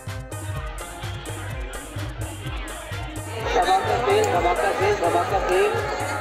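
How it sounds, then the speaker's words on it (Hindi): Crowd at the Semarsal fair near Takhatpur, Bilaspur, Chhattisgarh: a babble of many voices and bustle that swells louder midway, with someone talking over it and a rhythmic background beat. "अपन देख सकत है कतका भीड़ है मेला में"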